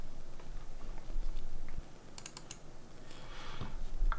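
Light typing on a computer keyboard while entering a formula in Excel 2016, a few quiet scattered key taps and a short cluster of clicks, close and soft, with no talking.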